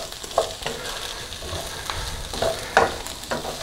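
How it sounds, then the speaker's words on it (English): Chard stems stirred into a pan of frying potatoes, a steady sizzle with a spoon or spatula scraping and clacking against the pan at irregular moments, close and fairly loud, no voices. "Just mix them in."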